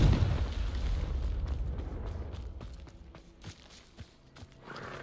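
Bombarda and Confringo explosion spells in the Hogwarts Legacy video game: a heavy booming blast that rumbles and slowly fades, followed by a few lighter thuds and scattered debris.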